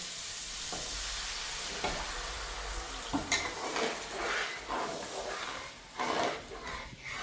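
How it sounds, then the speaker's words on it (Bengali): Hot water goes into spice paste that has been fried well in a pan for a fish curry. A broad hissing sizzle swells and fades with a few clattering bursts, close and continuous, with no voices. "এখন এর ভিতরে দিয়ে দেব গরম জল।"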